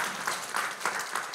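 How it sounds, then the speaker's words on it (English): Audience at an adult lecture series applauding, a brief, fairly faint patter of clapping with a few louder claps. "So, yeah, round of applause for Aunt Patty."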